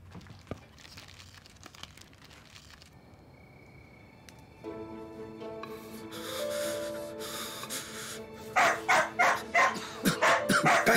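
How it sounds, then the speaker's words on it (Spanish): A dog barks in a burst of loud, repeated yelps near the end, following a stretch of quieter indoor noise and a steady tonal hum. "¡Deja de ladrar!"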